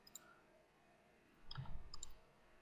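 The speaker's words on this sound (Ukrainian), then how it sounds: "Коли я клацаю правою кнопкою" A computer mouse's right button gives a few quiet, sharp clicks, one early and a quick pair toward the end, set against a faint, still room.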